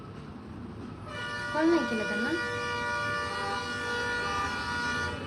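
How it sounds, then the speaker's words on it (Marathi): Roadside traffic with vehicle horns: a sustained, blaring tonal honk holds from the first second onward over a constant traffic rumble, while someone talks nearby. "गाड्यांचा आवाज येतोय भरपूर असा"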